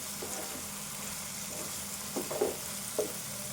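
Chopped onions frying in a pan for egg curry, a steady soft sizzle running throughout with a few louder stirring scrapes near the end.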